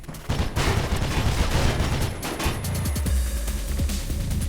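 Rifle gunfire in the video game Mirror's Edge rattles in dense, continuous bursts, loud and unbroken for several seconds, with no voices over it.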